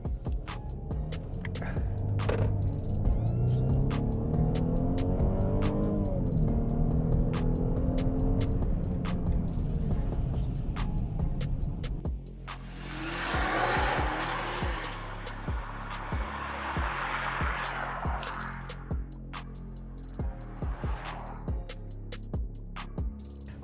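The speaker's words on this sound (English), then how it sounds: "you guys hear the noise coming out from the engine and the exhaust" A 2019 Mercedes-Benz GLC300 Coupe with a 2-liter engine in Sport Plus launches at full throttle, its engine and exhaust rising through rapid upshifts, loud and close, then settling into quieter cruising with intermittent clicks.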